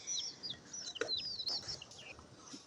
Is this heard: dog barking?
no